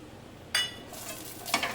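Cashews and fried paneer cook in a pan, giving a faint steady sizzle broken by two short stirring scrapes, one near the middle and another toward the end.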